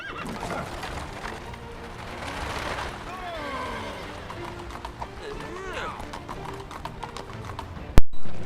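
Horse-drawn carriages in the LEGO Pirates of the Caribbean video game, set in London, clatter with clip-clopping hooves and whinnying horses under a steady game soundscape, ending with an abrupt loud sound effect.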